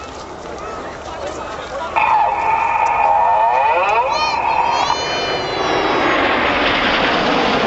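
Red Arrows Hawk jets flying a display formation at the Marham Family Day, a loud engine roar with a rising, shifting whine as the aircraft pass overhead, under a commentator's talk.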